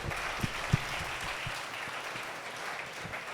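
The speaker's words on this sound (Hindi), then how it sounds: "इनके लिए जोरदार तालियां बजाई जाए" A seminar audience applauds senior officers, steady mid-level clapping filling the room at a fair distance, with a few sharper single claps standing out early on.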